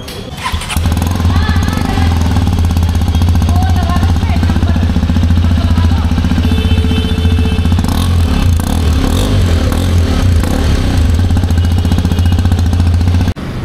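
A new Hero Xpulse 210 motorcycle idles loud and close, its engine holding a steady, even throb for about twelve seconds before cutting off abruptly.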